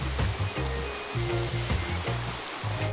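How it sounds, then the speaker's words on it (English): A river flows through a valley in Bali with a steady broadband rush of water, while footsteps or low rumbling thumps come and go over it. "We're coming up to the sungai here, to the river."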